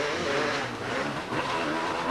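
Suzuki and Yamaha enduro motorcycles race at a 1994 vintage British enduro event in Dyfi, giving a continuous engine roar with rising and falling revs at mid distance.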